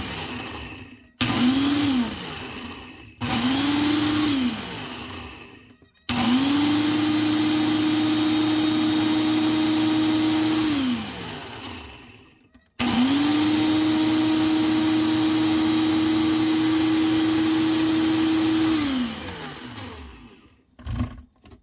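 Blender grinding dehydrated cranberries into powder runs in four loud pulses, two brief bursts and then two long whirring stretches, with short pauses between them and its pitch dropping as each pulse ends.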